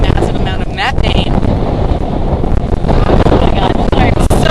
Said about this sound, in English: it's so windy, I'm so sorry